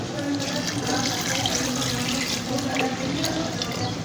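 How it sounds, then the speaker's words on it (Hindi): Water pours steadily into a pot of lentils and beef for a shami kabab mixture, a continuous close splashing stream that runs without a break. "अब हम इसमें पानी ऐड करेंगे।"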